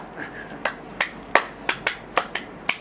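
Single hand claps demonstrated one at a time, about nine sharp, close, evenly spaced slaps in under three seconds, each standing alone with a quiet room between them.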